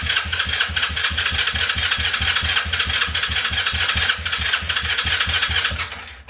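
A 110/125 cc quad bike engine cranks and runs with a steady rapid chugging pulse, loud and close, holding an even rough idle throughout with no voices.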